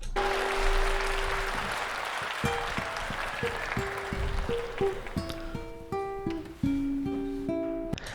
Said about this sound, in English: I also really like that they applauded for the demonic monologue.